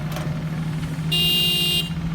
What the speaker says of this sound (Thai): โอ้แตรดังนะ